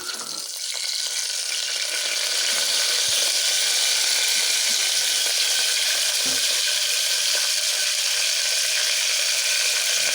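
Whole spices and fresh mint hit hot oil for vangi rice bath, setting off a loud, steady hiss and crackle that fills the whole stretch without pause, alone with no talk.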